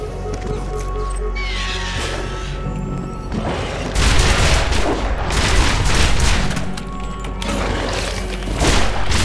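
Loud booming blasts and gunfire bursts in an action video game, with explosions swelling in several waves amid clattering battle noise.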